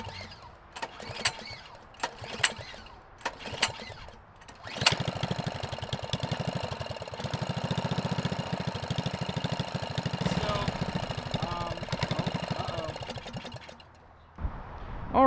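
A custom lowered mini bike's small engine starts at about five seconds and runs steadily for roughly nine seconds with a continuous buzzing drone. It cuts out near the end, with scattered handling noises and clunks before it fires up.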